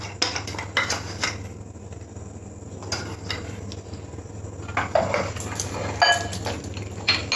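Ginger garlic paste and popcorn spice mixed by hand or spoon into raw chicken pieces in a bowl, giving soft irregular squelching and scraping with light clinks, over a steady low background hum and no talk.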